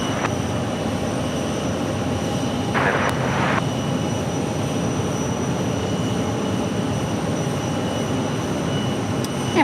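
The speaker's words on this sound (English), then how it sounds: "And we got American Airlines Flight 2436 coming in from Denver, Airbus A319." An American Airlines Airbus A319 arriving from Denver at Phoenix Sky Harbor, a constant loud rumbling jet roar with a short burst of radio noise partway through.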